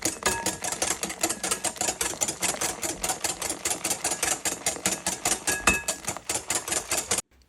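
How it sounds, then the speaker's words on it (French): A whisk beats cherry cake batter as water is poured in, a quick, even run of close tapping strokes against the bowl that stops suddenly at the end. "Je verse ensuite 130 ml d'eau tout en continuant de fouetter."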